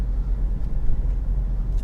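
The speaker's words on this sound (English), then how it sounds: "Another car coming out." A car pulls out of a road junction in Dover, a steady low engine and road rumble heard from inside another vehicle, continuous and fairly loud throughout.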